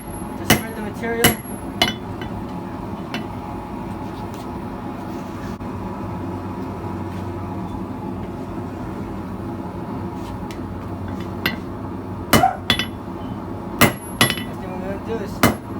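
Hammer blows on hot metal while forging a chisel: a few sharp strikes at the start, a long stretch of low background rumble, then another cluster of ringing hits near the end.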